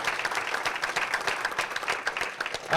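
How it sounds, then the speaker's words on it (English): An audience at a Bowling Green town forum on heroin and pill addiction applauds a participant, a continuous crowd patter of many hands, moderately loud and steady to the end. "Quick round of applause for Heidi for being here and participating tonight."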